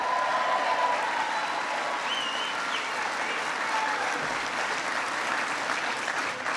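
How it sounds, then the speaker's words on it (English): A crowd at a political rally in Minnesota gives a speaker sustained applause. The clapping is dense and loud and holds for the whole stretch, with faint cheers and whistles mixed in. "give him a big round of applause"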